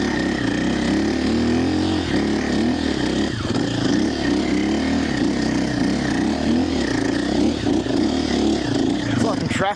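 A 2025 KTM 450 Champion Edition dirt bike ridden through sand, its engine close and loud, pulling and revving continuously with rough onboard wind noise throughout.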